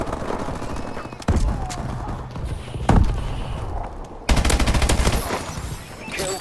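Loud, dense bursts of rapid automatic gunfire in the video game Call of Duty: Advanced Warfare, continuous and close, with a few heavier shots breaking through the rattle and no talking.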